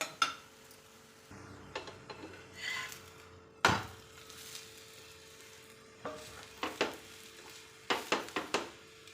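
Bottle gourd roti cooking in oil on a pan, with a faint soft sizzle under scattered scrapes and taps from a utensil turning it.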